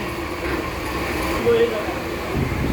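A new Bangladesh Railway commuter train from Joydebpur heard from inside the coach, a steady low rumble and rolling hum that runs on without pause, with a voice talking over it.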